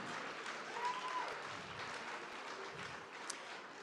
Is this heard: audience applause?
yes